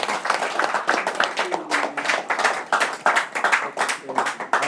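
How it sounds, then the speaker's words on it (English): Audience applause at a music camp, individual claps in uneven bursts that rise and fall, fairly close, with voices and cheering threaded through. "A big round of applause"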